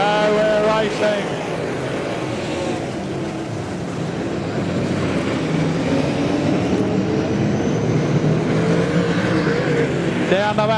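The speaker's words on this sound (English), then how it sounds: "Sean Black, Josh McLaren, go, we're racing." Super Sedan race cars roaring around the dirt oval at Gympie Speedway during a final: a loud, continuous engine drone with shifting revs, and a commentator's voice running over it.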